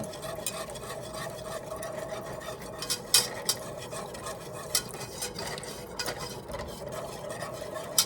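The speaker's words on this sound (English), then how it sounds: "And then we'll just keep whisking this until it gets thick" Whisk working milk and cream into a bubbling roux for macaroni and cheese, steady quiet scraping and swishing against the pan with occasional light metallic taps.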